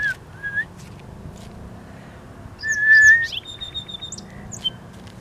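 Birds chirp and whistle in a wooded area of Athabasca, Canada, during a nature walk: scattered short tweets and one brighter burst of calls in the middle, moderately close, over a low rumbling background.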